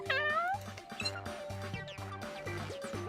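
A cartoonish cat meowing in the video game Path to Nowhere, a couple of bright rising meows over a looping, bouncy game music backdrop.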